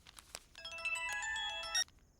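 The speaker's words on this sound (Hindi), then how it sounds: "अरे काका का फोन आ रहा है।" An incoming call on a mobile phone sets off a bright, tuneful ringtone that plays continuously for over a second, fairly close and clear, then cuts off abruptly.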